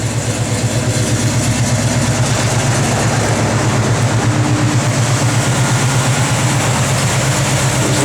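The blower motor of a 1970 Plymouth Barracuda runs as a steady, loud fan whoosh filling the cabin, with a low rhythmic engine idle pulsing underneath throughout.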